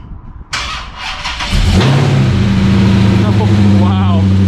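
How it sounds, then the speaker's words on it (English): A 2020 Dodge Durango SRT with a 392 stroker V8 cold starts: a sharp crank and bark, then a loud, deep rumbling high idle that settles into a steady throb, close by. "let's get you guys a cold start of what this thing sounds like"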